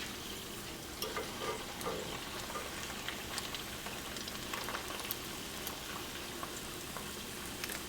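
Puerto Rican meat empanadillas fry in hot oil in a pan, giving a steady close crackling sizzle with scattered sharper pops throughout and no talking.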